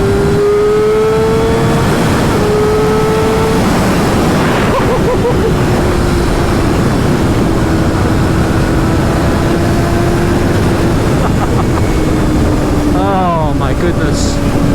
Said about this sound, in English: I hear a lot of wind, but I also hear the exhaust behind me